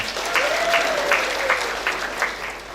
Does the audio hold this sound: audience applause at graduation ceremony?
yes